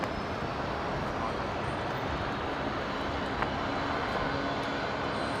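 A Jetstar airliner taking off from runway 19 left at Brisbane International, a steady, broad engine roar at moderate distance that holds level throughout.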